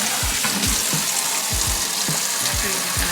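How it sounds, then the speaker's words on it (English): Tap water runs steadily into a cup being filled to water house plants, a continuous close rushing splash with small bubbling pops and no voices. "So we're just gonna fill that up and start watering the plants."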